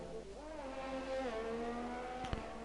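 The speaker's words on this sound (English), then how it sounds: "We got Hader Ramos in the McLaren" A McLaren race car engine in a racing video game on the Monaco circuit, a faint, thin whine that rises and shifts pitch as it passes, with a short sharp click near the end.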